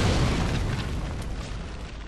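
Fire orb pyromancy blasts in Dark Souls 3: one loud, heavy explosion opens with a dense roar and trails off into a sustained rumbling wash.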